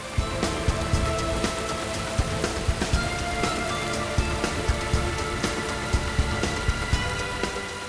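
Heavy rain pours down steadily and densely on surfaces, a constant loud hiss broken by scattered sharp drops and spatters, with no talk over it.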